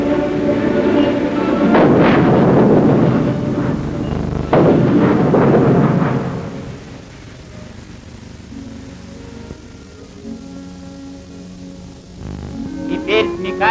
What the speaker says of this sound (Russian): А ну давай гром!